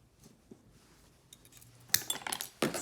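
Pliers snipping through a piece of craft wire on a workbench while making a bell clapper, heard as a couple of sharp metallic clicks and rattles near the end after quiet handling noises, close and moderately loud.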